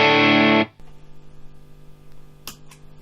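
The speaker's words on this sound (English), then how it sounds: "B, Vox via the Ultra Distortion." An electric guitar played through a Vox amp via an Ultra Distortion pedal gives one loud, saturated distorted chord that rings for about half a second, then cuts off to a quiet amp hum with faint clicks.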